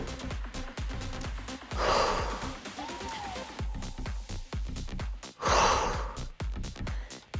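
Heavy breathing during a dumbbell curl-and-press workout, with two loud, broad exhalation bursts close to the mic over steady background music.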